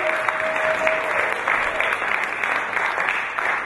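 Audience applause at a spoken-word event in Manchester's Zion Centre, dense steady clapping from a crowd that holds at an even level throughout.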